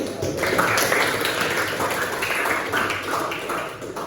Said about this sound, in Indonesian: Oke, kita aplaus ya.